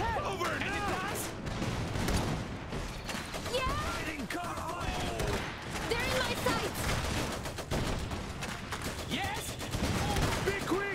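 Gunfire in the strategy game Iron Harvest: rapid, overlapping bursts of rifle and machine-gun fire go on continuously, mixed with battle noise and shouted voices.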